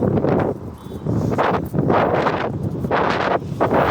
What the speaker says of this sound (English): why is it always so windy next to flats?